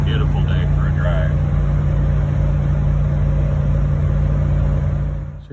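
A 1987 Toyota FJ60 with a swapped-in Vortec engine cruises down a highway, its loud, steady engine drone and road rumble filling the cabin while someone talks over it.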